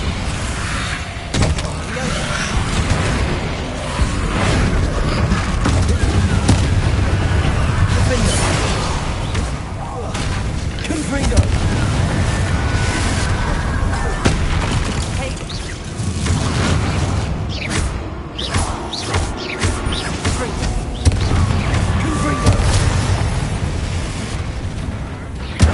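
Bombarda spell blasts in a Harry Potter–style fantasy video game fight against Inferi, booming explosions and crackling magic layered over a dense, constant wash of combat noise, with voices talking through the fray.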